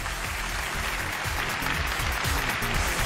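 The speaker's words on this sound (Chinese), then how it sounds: "掌声有请这一对，有请。" Studio audience applause greets a couple called onto the stage of a relationship-mediation TV show, a dense, steady clapping that runs evenly from start to finish.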